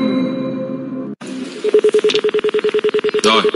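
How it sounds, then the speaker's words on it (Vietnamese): Telephone dialing tones for a phone-a-friend lifeline on a televised quiz show: a short tone, a brief gap, then a fast regular train of about fifteen loud, even dial pulses. "Gọi điện thoại cho người thân."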